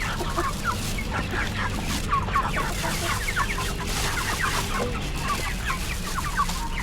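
Chickens cluck and chatter continuously at close range, with several birds calling over a steady low background hum.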